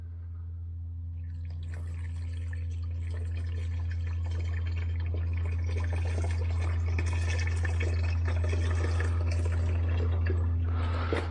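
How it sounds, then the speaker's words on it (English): Water poured from a cup into the washer fluid reservoir of a 2ZZ-engined Toyota Matrix with a leak trickles and splashes steadily over a loud, constant low engine hum. "I went to go try to fix it and or fill it up, and all it did was just leak out"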